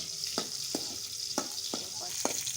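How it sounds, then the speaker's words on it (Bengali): Chopped onion and garlic fry in a hot tempering in a village kitchen, a steady bright sizzle broken by several sharp knocks of a spoon stirring against the pan, with no talking. "ফোড়নে দিয়ে দিচ্ছি বেশ কিছু পেঁয়াজ কুচি আর ফোড়নের মজার ফ্লেভার আসার জন্য তো রসুন কুচি একটু দিতে হবে"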